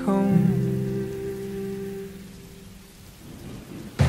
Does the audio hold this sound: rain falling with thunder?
yes